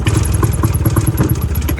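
An old Suzuki LJ20 jeep engine runs roughly up close, chugging and clattering in uneven pulses as if barely keeping itself going.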